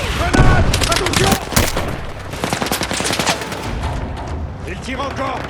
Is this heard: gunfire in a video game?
yes